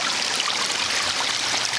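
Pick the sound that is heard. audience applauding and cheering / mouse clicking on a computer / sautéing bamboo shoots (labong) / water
water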